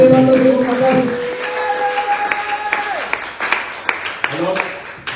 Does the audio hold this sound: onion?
no